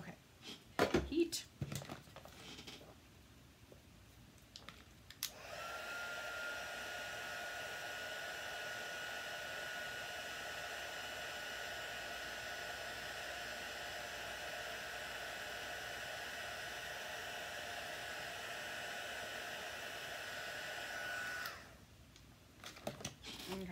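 A heat tool blows steadily for about sixteen seconds while embossing a stamped card, a loud even broadband whoosh that starts abruptly and cuts off, with brief handling sounds before and after.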